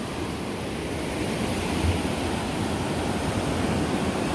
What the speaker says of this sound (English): This is the Swado River.